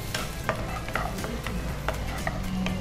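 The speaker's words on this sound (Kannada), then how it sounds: "ಅದೇ ಗಾರ್ಲಿಕ್ ಹಾಕ್ತೀನಿ, ಗಾರ್ಲಿಕ್ ಮತ್ತೆ ಜೀರಿಗೆ." Garlic and cumin seeds frying in ghee in a pan, a soft steady sizzle punctuated by repeated scraping and stirring clicks, fairly quiet and close.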